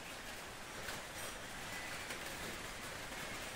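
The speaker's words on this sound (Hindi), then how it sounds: "देखो बारिश की बूंदे का आवाज़ आ रहा है पत्रे के नीचे" Steady rain patters on a metal sheet roof over a cattle shed, a dense, even hiss of drops heard from underneath, moderately faint and continuous with no talking.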